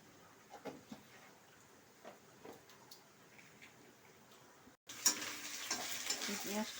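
Onions fry in a pan for an egg curry, with a soft crackle and scattered stirring clicks, then a sudden louder burst of sizzling as something is added.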